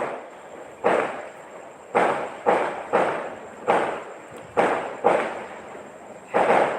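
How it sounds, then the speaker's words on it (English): Fireworks go off in a string of about nine sharp bangs at irregular intervals, each followed by a short fading crackle and echo over a steady background hum. "You see, the fireworks has gone off."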